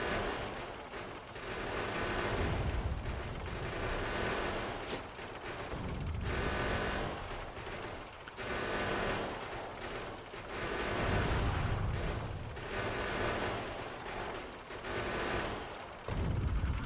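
Plasma cannon firing in the Factorio video game, loud continuous rapid bursts of heavy gunfire-like blasts with brief pauses between volleys, no talking.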